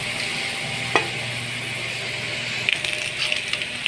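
Cauliflower fries in a pan with a steady sizzle and occasional stirring clicks and scrapes, close and moderately loud, with no talking.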